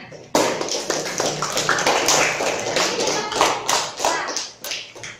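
A small classroom group of students claps for a classmate's performance, a sudden start of loose, uneven hand claps, fairly close and loud, with distinct individual claps standing out before fading.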